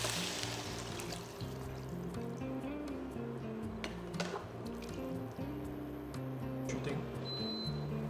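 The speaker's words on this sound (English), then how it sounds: "Add in your water or stock." Water or stock pours into a pan of frying vegetables, a faint trickling and dripping spread over several seconds amid a low background hum, with no voices.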